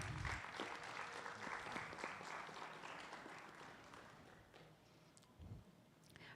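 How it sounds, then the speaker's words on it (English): Graduates at a high school commencement applauding their teachers, a broad steady roar of clapping heard faint and distant, slowly tapering off with a few scattered claps and thuds near the end. "giving all the teachers a round of applause"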